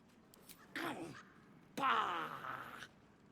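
A red cap fey creature in Baldur's Gate 3 lets out two drawn-out, bleating, sheep-like vocal cries, each lasting about a second, close and clear.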